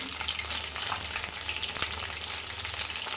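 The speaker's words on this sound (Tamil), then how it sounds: "ரொம்ப அழகாக பொரியுது இது இன்னும் பொரியணும்" Rice vadai frying in hot oil give off a steady, close crackling sizzle with no talking.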